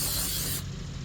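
Brake cleaner sprays in a steady loud hiss onto the front brake brackets of a 2021 Kia Telluride, cutting off partway through and leaving a quieter mechanical background.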